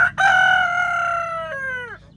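A rooster crows loudly and close by in one long drawn-out call, trailing off at the end, with faint hen clucking beneath it.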